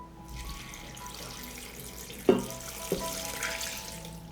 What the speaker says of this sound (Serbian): dodajem litar vode